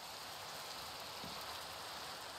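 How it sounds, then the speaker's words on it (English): Steady rain falls in Minecraft, an even, continuous hiss of drops on surfaces with no pauses and no voices. "it immediately started raining"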